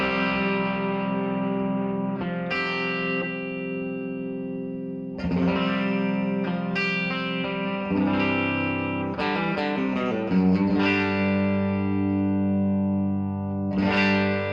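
An electric guitar plays sustained chords and single notes through a 2-Rock amp, with a warm, slightly distorted tone and a touch of chorus and reverb, steady and moderately loud with no talking.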